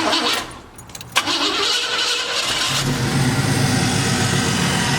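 An Oldsmobile Cutlass engine cranks briefly and catches, then settles into a loud, steady idle close by after a short starter whir, with no talk.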